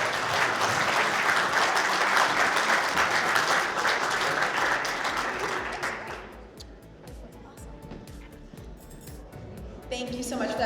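Audience at a State of the City event in Whittier, California claps loudly for a presenter, sustained applause that fades out after about six seconds into quieter room sound.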